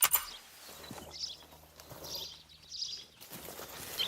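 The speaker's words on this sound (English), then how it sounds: "This is a grouse." Grouse calling in the hunting game The Hunter: Call of the Wild, heard as a few short, soft bursts spaced about a second apart over quiet outdoor ambience.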